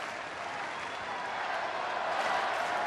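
A crowd of about 54,000 cheers and applauds at a Major League Baseball game between the San Diego Padres and the Los Angeles Dodgers, July 2012. The roar of clapping is dense and steady and swells slightly as it goes on.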